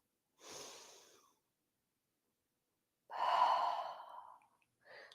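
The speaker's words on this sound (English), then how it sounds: "Take 3 rounds of breath here. In through the nose and out through the mouth." Slow, deep breaths during a relaxing yoga session, one long inhale through the nose and a fuller exhale through the mouth, close and soft with silence between them and no talking.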